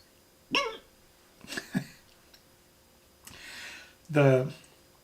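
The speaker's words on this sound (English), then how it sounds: "Now I've got the hiccups." Hiccups after eating butter made with very hot sauce: a handful of sharp, throaty vocal jolts spaced irregularly over a few seconds, close up, with a breathy exhale between them.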